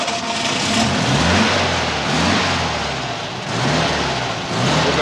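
A Volkswagen engine with a brand-new exhaust runs close by, its low rumble rising and falling in gentle revs over a steady idle, with no talking.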